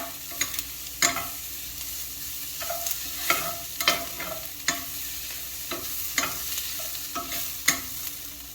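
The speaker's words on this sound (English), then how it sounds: "we're just going to let that garlic cook for a moment" Garlic sizzles steadily in a pan on its own, with a dozen or so sharp scrape-and-stir clicks at irregular intervals as it is moved around, while it cooks for cheeseburger macaroni.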